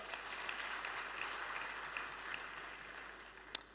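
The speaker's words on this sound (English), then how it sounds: "A round of applause for the amazing Giselle." Faint, steady applause from an audience in a conference hall at a regional sustainable energy event, a soft continuous patter with one sharper clap near the end.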